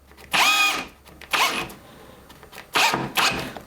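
A Huchika hammer drill set on its clutch drives screws in four separate whirring bursts, each rising and stopping with brief pauses between, close and loud.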